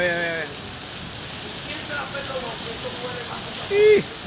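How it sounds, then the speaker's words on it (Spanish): Heavy rain pours onto 42nd Street in New York, a constant hiss of drops hitting the pavement, while someone speaks in Spanish over the downpour. "tiene como 20 minutos lloviendo"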